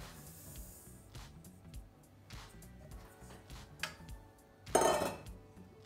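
Semolina for kalb el louz poured into a bowl, a short, loud grainy hissing rush near the end, after a few quieter clinks and rustles.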